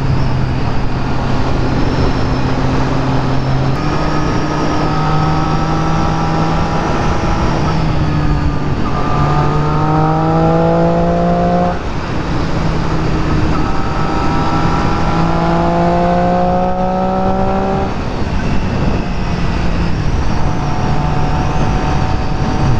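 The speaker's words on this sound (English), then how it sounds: "Trying out different rev ranges, see what different gears do for me." A Triumph Street Triple R motorcycle is being broken in on a ride toward Wrightwood. The engine revs loud and close, rising in pitch through each gear, with a brief dip at every shift and steady wind noise throughout.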